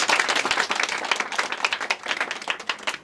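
A crowd at a wedding anniversary celebration breaks into loud, hearty applause, many hands clapping close and dense with uneven surges throughout.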